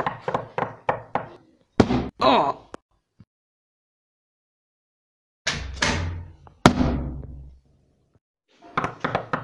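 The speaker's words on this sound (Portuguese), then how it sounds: "O cabo Henderson acabou de levar um tiro no ombro." Gunshot effects from a LEGO animation sound as sharp, loud bangs: a quick rapid string at the start, a couple of heavier blasts, then a pause before more big hits and another fast burst at the end, with a voice briefly present.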